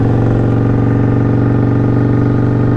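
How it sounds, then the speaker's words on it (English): A motorcycle cruising on the road, its engine a loud, steady throbbing drone with a constant pulsing rhythm close to the rider, without speech. "today I'm just hopped on my bike, man. I'm just gonna ride."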